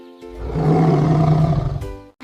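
A bear gives a single loud, deep roar lasting about two seconds, close and alone, then cuts off abruptly.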